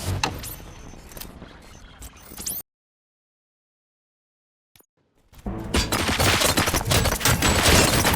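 Gunfire in the RoboCop: Rogue City video game: a dense burst of loud shots and impacts for a few seconds, sudden silence, then a longer sustained barrage of heavy gunfire and clatter.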